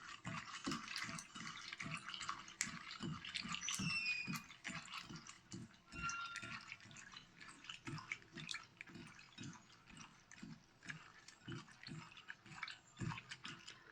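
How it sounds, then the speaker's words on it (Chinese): Flour-coated Sichuan peppercorns are rinsed in a bowl of water by hand, giving a steady run of close sloshing and swishing splashes in a regular rhythm, with no talk. "然后加水 淘洗"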